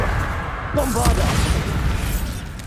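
A Bombarda spell explosion in Hogwarts Legacy gives a dull, rumbling boom within a dense, noisy game battle, with a voice faintly present underneath.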